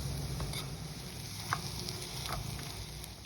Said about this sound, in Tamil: இதுலேயே கொஞ்சம் புளியை போட்டு வதக்கிங்கோ